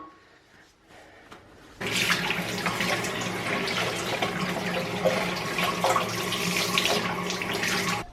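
Warm water from a kitchen tap gushes steadily into a sink, starting abruptly after a quiet moment and running loud and continuous to the end.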